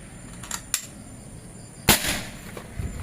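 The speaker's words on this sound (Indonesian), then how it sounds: "tembakan pertama menggunakan track 3" A compact folding PCP air rifle with a seamless 30 cm barrel fires one sharp, loud crack, preceded by a couple of faint clicks and followed by a short fading tail.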